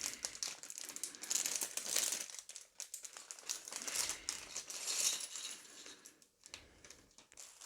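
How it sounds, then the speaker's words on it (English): A plastic parts bag from a Lego Star Wars Snowspeeder set is torn open up close, giving a run of sharp crinkling and rustling bursts with brief pauses and no talking. "Time to rip the bag open."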